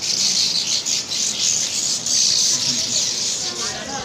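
Sparrows chirp around a sparrow nest, a dense, continuous high twittering of many birds close by, with low background murmur underneath throughout.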